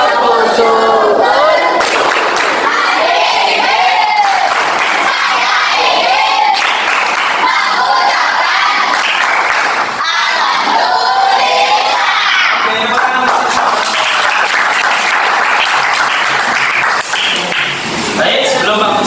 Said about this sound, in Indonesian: 1, 2, 3. Tepuk syukur.